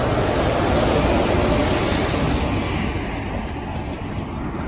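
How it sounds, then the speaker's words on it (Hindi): The Shaktipunj Express passenger train rolls into the station with a loud, dense rumble and hiss close by, the roar easing slightly as it slows. "और पर शक्तिपुंज एक्सप्रेस आ चुकी है"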